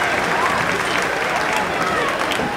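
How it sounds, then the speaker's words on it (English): A crowd gives a big round of applause to a newly crowned world champion at the Pig N Ford races, a steady wash of clapping with an announcer talking over it. "Give this guy a big round of applause, ladies and gentlemen"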